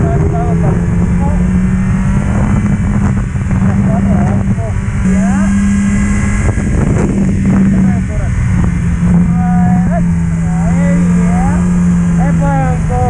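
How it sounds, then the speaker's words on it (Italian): A motorcycle engine drones steadily while riding, with its pitch holding and shifting slightly and loud wind noise throughout; a voice talks over it. "Sento la moto che va un piacere."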